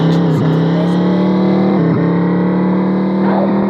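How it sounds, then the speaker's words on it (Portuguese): Motorcycle engine riding in the video game Chicken Gun, a loud, steady droning hum that holds one pitch throughout, with brief dips as if shifting or bumping, and no talk over it. "Bora de moto mesmo"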